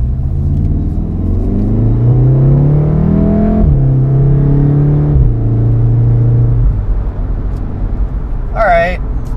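A Volkswagen Golf R with its resonator deleted revs up, the engine note climbing then dropping and holding at a steady rumble, loud and close, with a short squeak near the end.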